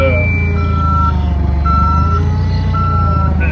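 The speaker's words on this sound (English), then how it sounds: "That way I can get this forklift out of here." Steady reversing beeps from a forklift in a workshop, repeating in a slow rhythm over a continuous low engine drone.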